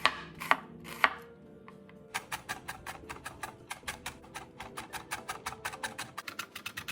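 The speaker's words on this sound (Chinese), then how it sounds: "切片后再剁碎。" A knife mincing a sliced small red shallot on a board: a few scattered knocks, then a fast, steady run of crisp, close chops that continues to the end.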